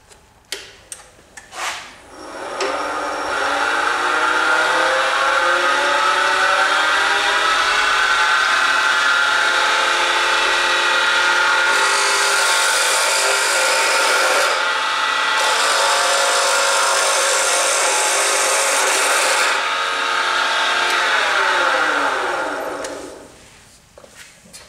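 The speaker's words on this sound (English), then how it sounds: "I'm gonna switch over to my square cutter." A carbide square cutter turns a wooden ballpoint pen blank on a lathe, opening with a few clicks, then a loud, continuous whirring and scraping hiss that holds steady for around twenty seconds before spinning down.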